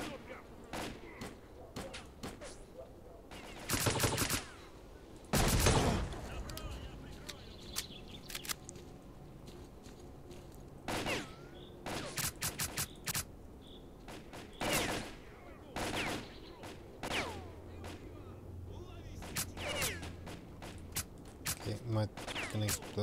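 Gunfire from the video game STALKER Clear Sky comes in scattered bursts and single sharp shots. The bursts are separated by quieter stretches of game ambience, with a few louder volleys.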